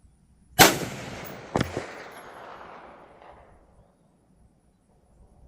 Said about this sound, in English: see it hit the dirt there and then hear the light tinging sound when it hits it